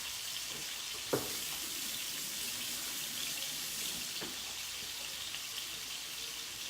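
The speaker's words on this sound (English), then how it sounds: "I'm gonna go ahead and wash my hands because I got seafood seasoning hands" Water runs steadily from a kitchen tap as hands are washed beneath it, a constant close hiss with a couple of faint clinks, no voices.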